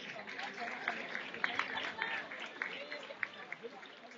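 Applause for champions at an honours trophy ceremony: scattered, fairly faint hand claps, not full-crowd, mixed with distant voices.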